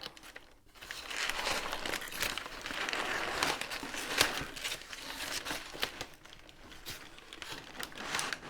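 Brown packing paper from a large unboxed order crinkles and crumples steadily for several seconds, with bursts of rustling and a sharper crunch midway, close up and fairly quiet.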